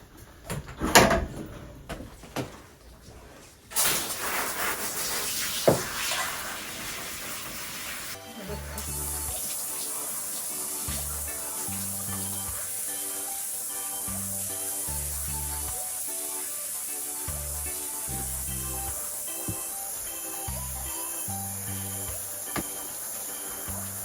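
A spray nozzle rinses a 70 lb standard poodle in a bath: a few bumps and knocks at first, then a steady hiss of running water broken by rhythmic low thumps and splashes as the coat is soaked.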